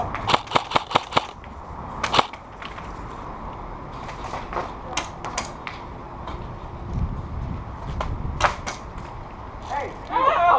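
Glock pistol fire in a video game arrives as a quick burst of sharp shots followed by scattered single cracks, with game sounds and some voices in the background.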